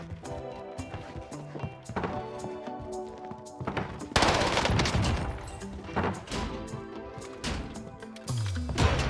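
Loud automatic gunfire in Call of Duty Warzone comes in rapid, sustained bursts while the player strafes, dense and continuous, with sharp impacts and a heavy blast partway through.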